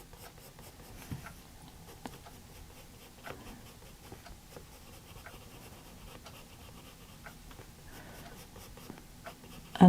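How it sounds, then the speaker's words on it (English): Colored pencil shading over paper, working carefully around leaf outlines in an autumn fox forest colouring planner; a soft, continuous scratchy scribble close by, with faint taps and small bumps and no talking. "Now I'm trying to go around the leaves so that I colour them in separately later"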